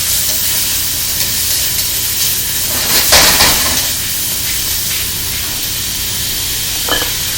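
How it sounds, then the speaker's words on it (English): Onions and peppers stir-fry in a pan alongside broccoli and carrots, giving a loud, steady sizzle and hiss with brief scraping stirs as they are mixed around. "So right now I'm going to be adding my onions and peppers. We're going to give it a good mix around."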